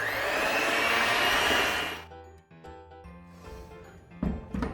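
Electric hand mixer on its lowest speed blending flour batter, a steady close whirring drone for about two seconds that then stops, followed by quieter bowl knocks and clinks.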